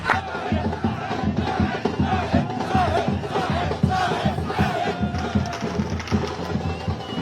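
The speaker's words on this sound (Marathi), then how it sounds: "राष्ट्रवादी काँग्रेसच्या कार्यकर्त्यांनी एकच जल्लोष केला" NCP party workers cheer and celebrate in a dense, loud crowd, with sustained shouting and whooping that rises and falls continuously and no single voice standing out.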